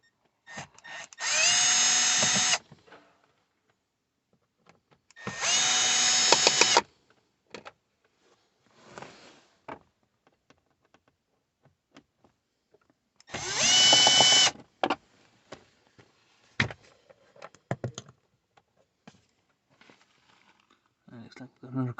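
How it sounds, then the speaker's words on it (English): An electric screwdriver whirs in three short, loud bursts of about a second each, backing screws out of plastic trim on a Volvo V40/S40, with quiet handling clicks and rustles between them. "Got an electric screwdriver here."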